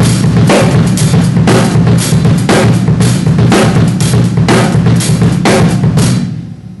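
A drum kit plays a pattern of triplets on the feet over 4/4, offset into sixteenth notes: dense, loud, close drumming with steady repeated hits throughout, fading at the end.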